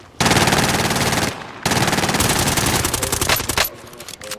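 Rapid automatic gunfire rings out in a Call of Duty Warzone Resurgence match, two loud sustained bursts split by a brief gap, then trailing off into scattered shots.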